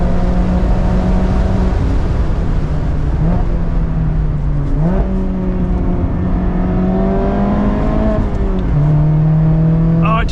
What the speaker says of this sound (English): This exhaust is the jam.